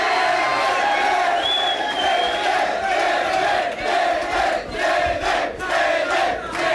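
A studio audience cheers and whoops loudly and continuously at a live 1987 show, with a single whistle early on and surges of crowd noise throughout.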